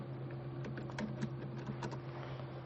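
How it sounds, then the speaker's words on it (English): Quick, close keystrokes on a computer keyboard as a command is typed into a Kali Linux terminal, a short run of light clicks over a faint steady hum. "Then type ifconfig."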